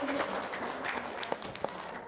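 An audience at a religious gathering clapping their hands, a soft, distant, continuous patter of many claps with a few sharper individual claps standing out.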